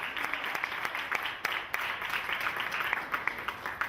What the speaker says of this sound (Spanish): Dale un aplauso a nuestro Dios.